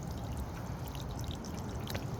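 Water gushing from the hose of a Vivosun 800 GPH submersible pump through a 1.5 inch PVC pipe, draining onto a driveway; a steady, close splashing pour with faint trickles on top.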